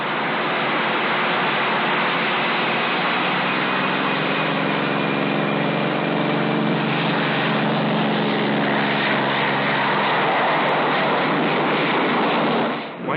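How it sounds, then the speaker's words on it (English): Aircraft taking off with jet-assisted takeoff rockets, a loud, steady engine and rocket roar held for over ten seconds that swells slightly as it builds, with no talking. "Keep the trigger down till you feel the thrust of the rockets"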